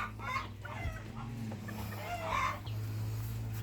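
A brooding hen clucks in short, uneven bursts close by, over a low steady background hum, with no one speaking.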